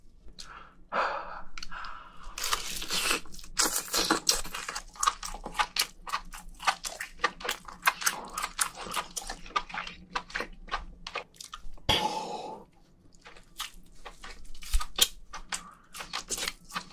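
Close-up wet chewing and crisp crunching of giant lobster, dense irregular bites and squishes in quick succession, recorded intimately with brief pauses between mouthfuls.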